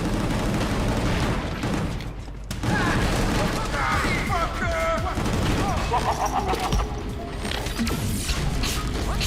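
Rocket blasts and gunfire burst through a dense, loud action scene in the video game Gungrave G.O.R.E., with clattering mechanical noise and a brief drop near the start.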